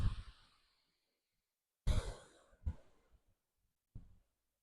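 A person breathes out slowly during a yoga flow, a long soft exhale followed by a few shorter breathy puffs with quiet gaps, close and alone without talk.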